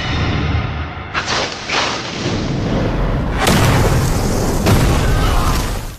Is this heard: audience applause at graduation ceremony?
no